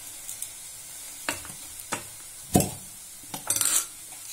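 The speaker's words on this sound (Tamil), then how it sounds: "லேசா வதக்கிக்கணும். ஒன்னாவே போட்டு வச்சு கொஞ்சமா எண்ணெய் இதுக்கு மட்டும்" Coriander and mint leaves being sautéed in a little sesame oil for a Tamil thokku, with a soft sizzle and several sharp clinks and scrapes of a spoon stirring in the pan, no one talking.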